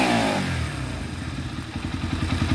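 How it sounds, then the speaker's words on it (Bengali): A Bajaj Explorer 140cc motorcycle engine, freshly refitted, revs up briefly, then settles into a close, even, thumping idle with a clattery rhythm. "আপনাদেরকে ইঞ্জিনের সাউন্ড শোনাবো"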